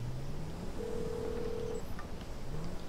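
A phone in GTA 5 dials out while calling a character, with a few soft synthetic tones that rise and hold steadily over a low background hum, faint and without speech.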